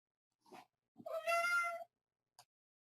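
A pet cat lets out a clear, drawn-out meow, with a brief chirp just before it and a tiny one after, close by and otherwise quiet.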